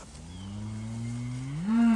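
A single long moo from an older red cow, close and loud, rising in pitch and swelling near the end, with no one talking.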